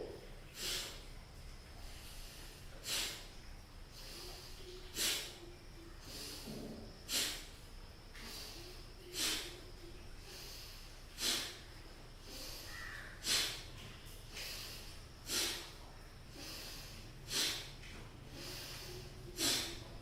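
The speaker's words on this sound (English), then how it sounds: "you're creating this sharp exhalation as you come out" Sharp, forceful breathwork exhalations through the nose during a beginner class, each a brief hissing snort repeating about every two seconds in a steady rhythm, close and clear over a quiet room.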